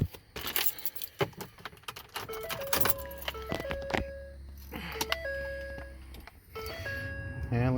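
Ignition key jangling and turning in a 2011 Ford F150 EcoBoost 3.5, followed by repeated electronic chimes and beeps over a low hum, close and fairly loud.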